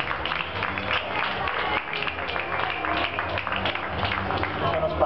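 An audience gives a warm round of applause to welcome a guest performer, dense continuous clapping that stays loud throughout, with some crowd noise mixed in.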